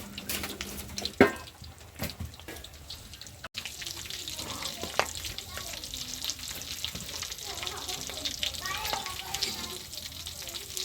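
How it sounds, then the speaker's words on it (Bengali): Potato chops frying in oil on a village stove, a steady broadband sizzle running continuously after a few brief clatters at the start, with faint background activity. "এবার আলুর চপগুলো দিয়ে দিল চুলায়"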